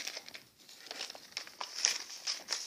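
Soft, faint crinkling of plastic as a pencil bag is closed, a continuous rustle with small crackles and no speech.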